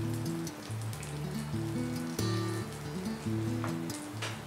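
Garlic and salsa ingredients sautéing in a pan for chicken quesadillas, a continuous soft sizzle and crackle running under background music.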